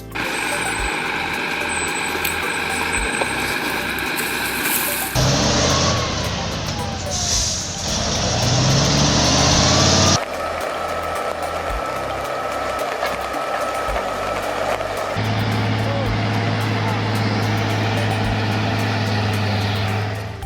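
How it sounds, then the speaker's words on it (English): A heavy logging truck grinds along a muddy road with a loud, continuous diesel engine roar that shifts in tone across several segments, with a voice talking over it. "these trucks, which manage to get through muddy roads safely thanks to the expertise of their drivers."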